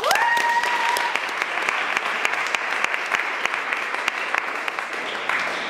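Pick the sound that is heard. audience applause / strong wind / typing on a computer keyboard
audience applause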